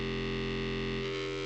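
A buzzing, saw-like wavetable synth tone from Serum holds steady as a dense, harmonically rich drone, changing timbre slightly about two-thirds through, with no talking.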